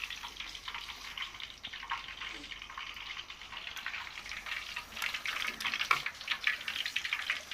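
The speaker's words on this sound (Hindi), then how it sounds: "अब इसको दोबारा फ्राई करेंगे," Masala fish pieces sizzling as they fry again in a pan of hot oil, a steady dense crackle and hiss with scattered pops, close and continuous with no talking.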